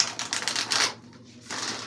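A deck of playing cards being shuffled close up, a dense riffling flutter for about a second, a brief pause, then a second burst of riffling.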